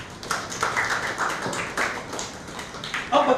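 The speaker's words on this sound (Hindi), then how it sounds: "ताली बजाओ उसको।" Scattered claps from a workshop audience form loose, uneven bursts across the room instead of full applause. Some break off and others start again.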